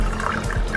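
Filtered water pours steadily from a filter in a kitchen while a smoothie is being made, a brief, continuous splashing stream heard alone.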